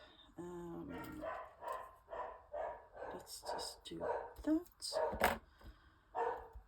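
A pet dog barks repeatedly at an imagined visitor, a string of short mid-pitched barks mixed with and partly under a nearby person's talking.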